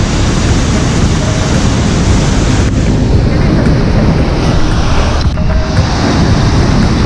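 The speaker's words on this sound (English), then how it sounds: "This fall carries the most amount of water in Canada." Athabasca Falls in Jasper National Park thunders as a broad, steady roar of heavy falling water, loud and constant throughout, mixed with wind buffeting the microphone.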